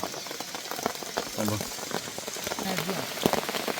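Steady rain patters down in a hillside forest during a night of camping and hunting, a dense hiss of drops on leaves and ground with a few louder splats, close and continuous, with faint voices briefly murmuring underneath.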